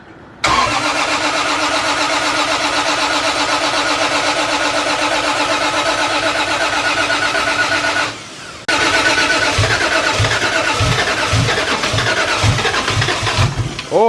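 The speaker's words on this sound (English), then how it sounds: "about to do the first start. I'm really, really nervous, but the moment is here. So we're gonna try and crank her over" A brand-new 1JZ engine cranks with a steady, loud whirring of the starter for about eight seconds, pauses briefly, then cranks again and catches, firing into a rough, pulsing run close by.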